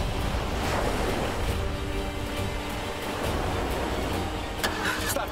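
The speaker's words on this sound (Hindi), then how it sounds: "युग, युग गाड़ी स्टार्ट करो जल्दी।" A car engine turning over and starting amid rising floodwater: a continuous rumbling, churning drone mixed with rushing water noise, loud and steady throughout with a faint clunk near the end.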